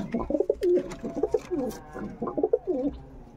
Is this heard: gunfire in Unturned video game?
no